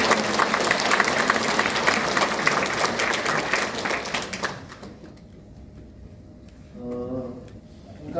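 An audience at a lecture by Jeju's governor claps loudly and densely for about four and a half seconds before the applause fades out, followed by quiet room tone with a brief murmur of a voice.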